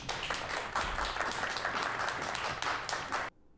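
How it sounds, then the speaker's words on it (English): A crowd claps continuously in a scene from the TV series The Expanse, a dense, steady round of applause that fills the moment and then cuts off abruptly near the end. "stop clapping when I walk in the room"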